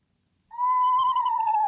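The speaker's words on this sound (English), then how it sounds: "That is the sound of an eastern screech owl." An eastern screech owl gives a single sustained, whinnying trill that starts abruptly, holds steady and close, then rises slightly toward the end, with nothing else audible.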